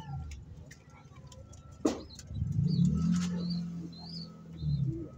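A racing pigeon gives a low, rolling coo close by, following a sharp click. Faint background noise sits underneath.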